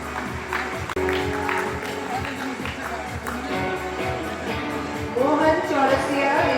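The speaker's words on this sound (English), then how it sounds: "Keep clapping, students. Your clap is their motivation." Students clap at a school Christmas celebration, a steady, dense wash of applause that swells a little toward the end, with a voice speaking over it.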